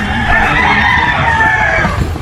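Loud, close chicken calls, a drawn-out crow-like cry over a busy background of fowl.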